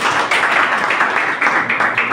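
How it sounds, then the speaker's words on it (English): Audience applause for candidates at a nursing school presidential debate: dense, steady clapping from a crowd, loud and continuous throughout with a few slight surges. "Let us clap for our candidates."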